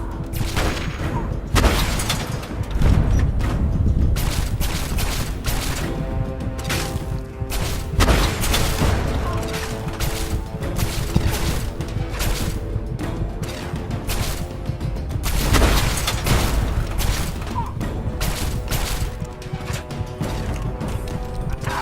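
Rapid bursts of gunfire and loud explosive booms from a firefight in the video game Fallout 3, dense and continuous throughout, with clanking mechanical clatter between volleys.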